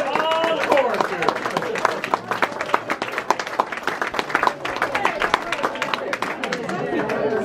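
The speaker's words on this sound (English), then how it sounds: "let's have a round of applause for our president of all the chorus here" Applause for a chorus president at an RV park gathering in Homer, Alaska: many hands clap in a brisk, uneven patter under lively crowd chatter and overlapping voices.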